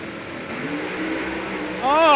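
Drag racing car at the Snowbird Outlaw Nationals in Bradenton, its engine roaring steadily and then surging into a loud rising rev near the end, under a commentator's excited talk.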